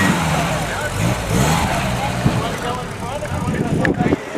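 A Mercedes-Benz 190 SL fires up and runs at a car club convention, its engine note steady amid a busy outdoor crowd with people talking throughout.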